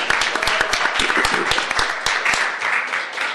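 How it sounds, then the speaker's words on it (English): Dense round of applause from a committee meeting audience honoring Tom LaBonge, steady clapping with sharp individual claps throughout, fairly close and unbroken. "A big round of applause for Tom LaBonge"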